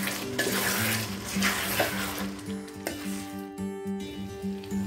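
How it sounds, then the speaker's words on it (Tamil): A spoon stirs chicken gravy in a pan, scraping and clinking steadily against the metal over a low bubbling simmer, with a repeating tonal hum underneath throughout. "நல்லா திறந்து விட்டு இந்த மாதிரி கிண்டி கிண்டி விட்டுக்கோங்க."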